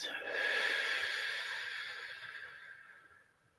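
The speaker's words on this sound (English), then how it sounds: "Breathing in through your nostrils and exhaling through your mouth." Slow, deep breath drawn in through the nose and let out through the mouth during a guided meditation circle, a close, airy exhalation that swells then gradually fades to quiet, with no talking over it.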